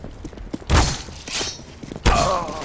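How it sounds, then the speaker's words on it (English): A flashbang grenade thrown in Counter-Strike: Global Offensive during a knife-only competitive match: a sharp broadband burst near 0.7 s, a second loud crack at about 2.1 s, and a busy game backdrop throughout. "Throwing flashbang."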